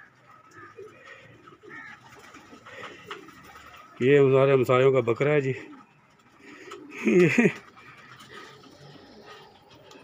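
Pigeons coo in a rooftop loft in a couple of throaty, rolling bursts, close and fairly loud, with someone talking quietly around them.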